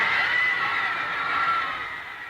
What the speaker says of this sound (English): Hear that crowd cheer?